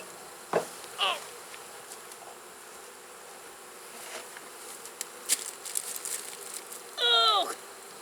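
Bees buzz steadily through an early-season beehive inspection, close to the microphone, with brief louder passes and a few short high chirps standing out near the end; no one talks.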